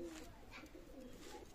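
A Teddy pigeon of Oman bloodline coos softly in a few low, rolling phrases, close by and quiet.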